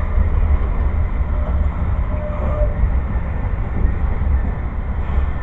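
A passing train rumbles steadily and loudly at close range, a dense low roar that holds even throughout with no breaks and no voices.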